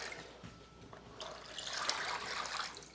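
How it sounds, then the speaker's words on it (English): Water being poured into a container to make a brine for home-caught trout, a steady trickling fill that swells and brightens as the level rises, close by with no talk. "I'm gonna put in 8 cups of water into here."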